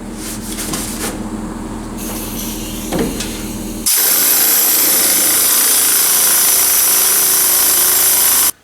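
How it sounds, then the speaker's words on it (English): Car body panels being sanded with sandpaper, a loud close scraping rasp that becomes a steadier, brighter, harsher grind midway, then stops abruptly. "stay flat on the panels. Keep your sandpaper cleaned off."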